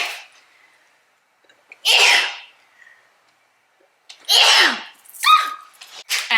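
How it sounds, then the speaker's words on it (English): A woman doing her makeup lets out a series of sneezes: a sharp sneeze after a quiet gasp, then another loud one followed by a quick double burst, all close and isolated against silence. "now I'm gonna sneeze"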